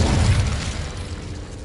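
An Incendio fire spell cast in a Harry Potter video game: a single loud whooshing burst with a deep boom that flares up at once and then fades over about a second and a half.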